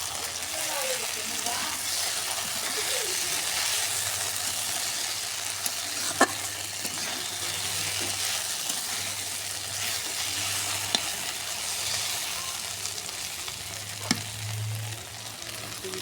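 Okra frying slowly over low heat, a steady close hiss of sizzling oil running throughout with a few faint taps of a utensil.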